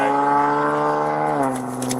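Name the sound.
car engine running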